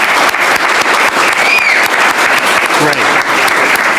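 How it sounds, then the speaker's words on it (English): Audience applause fills the room at a community awards event, a dense, steady wash of clapping that holds loud throughout with a few voices mixed in. "I just want to give you a round of applause."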